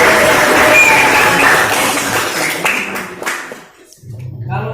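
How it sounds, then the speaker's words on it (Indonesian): A classroom claps for a student, with dense overlapping hand claps filling the first few seconds before the sound thins and stops. A voice then starts talking. "tepuk tangan dulu buat Tegar."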